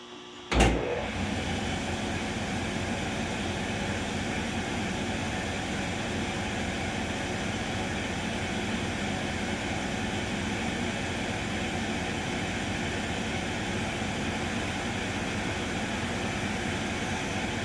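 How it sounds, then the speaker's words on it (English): A lathe with a larger nose radius tool cuts a fillet onto a rolled thread. A sharp click opens into a steady, even machine hum and whine that holds unchanged for over fifteen seconds. "use this larger nose radius tool to put a fillet on that thread"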